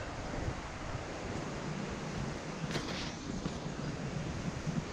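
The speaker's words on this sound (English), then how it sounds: "The river, after all the rain we've had, still looks fairly low." A river rushes through a rocky gorge after rain, a steady, broad roar of flowing water with wind buffeting the microphone, constant and moderately loud with no voices.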